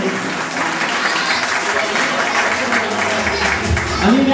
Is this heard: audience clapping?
yes